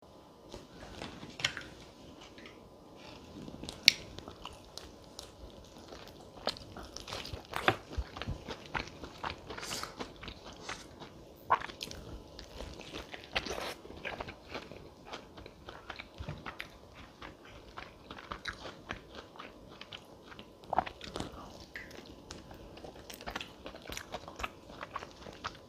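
Fried chicken being eaten at home, with close crunchy bites and soft chewing repeating irregularly throughout, plus occasional clicks and rustles, no talking.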